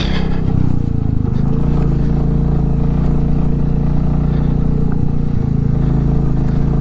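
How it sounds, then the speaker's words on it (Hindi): Loud, steady engine drone with mid-low rumble on a mountain road from Nyoma to Manali in Ladakh, as an oncoming truck approaches, heard close up from inside a vehicle with no talking. "ट्रक आ रहा है सामने से"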